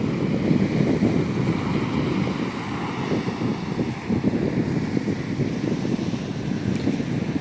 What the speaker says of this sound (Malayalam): ഈ കായലിൽ ഇതിനെക്കാട്ടിയും വലിയ തിരമാല ഉണ്ടാവും തോന്നുന്നു